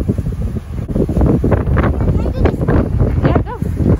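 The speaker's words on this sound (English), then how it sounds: "It's super windy." Strong wind buffets the microphone outdoors at a science museum, a loud, continuous roaring rumble that stays steady throughout, with a child's and an adult's voices talking over it.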